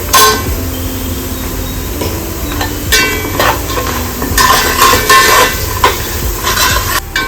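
Crushed garlic and turmeric frying in a pan, stirred now and then, with a steady close sizzle broken by scraping and clinks of the spoon against the metal pan.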